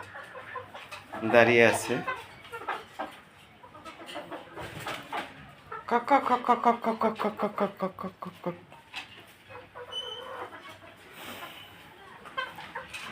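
Chickens in a coop cluck and squawk close by, with a sharp burst of agitated calls followed by a rapid run of rhythmic clucking, while a person speaks briefly.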